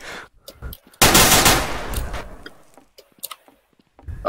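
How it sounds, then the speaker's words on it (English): One loud burst of gunfire in Garry's Mod erupts and fades, followed by sparse ticking and small clicks in a quiet game scene. "You realize the gunshots are heard everywhere."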